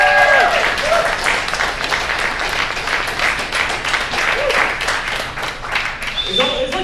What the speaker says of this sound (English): It's like too much cheering.